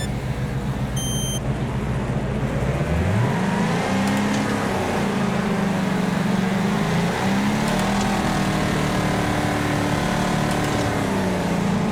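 Race car engines at Kingston Raceway in a racing video game, loud continuous engine drone with pitch climbing through gear changes as the cars accelerate, alone without talk.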